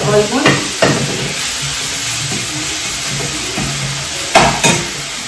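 A wild monsoon vegetable dish fries in a pan with a steady loud sizzle, broken by a few sharp scraping stirs of a spoon against the pan.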